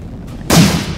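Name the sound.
explosive dash of Explosion Bankai, Peroxide video game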